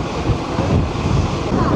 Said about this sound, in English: we've been warned it's very windy out here